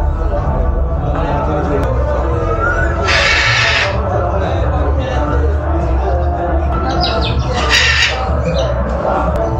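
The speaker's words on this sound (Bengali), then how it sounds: "এই পাখিগুলো হচ্ছে ব্লু মঙ্ক।" Blue monk parrots chirp and squawk amid a busy fair crowd, short bright calls popping up over steady background chatter and nearby talk.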